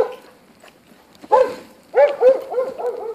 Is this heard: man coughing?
no